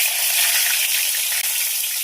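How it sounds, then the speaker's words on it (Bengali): Bay leaf and whole spices sizzling in hot oil in a pan while cooking a meat curry: a steady, bright, close frying hiss that continues without pause, with no talk. "ফোড়নে দেবো তেজপাতা,"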